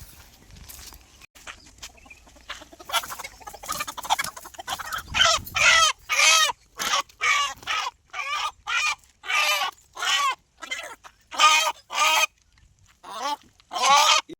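Young country chickens, a cockerel chick among them, squawk loudly and repeatedly up close, in a rapid string of harsh calls that grows more insistent after a quieter start.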